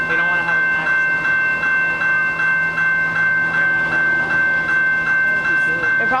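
A Canadian Pacific or West Coast Express train rolls past at Pitt Meadows, a loud steady rumble with a rhythmic clatter of wheels repeating over the rails throughout.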